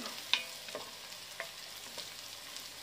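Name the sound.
garlic and ginger frying in a pan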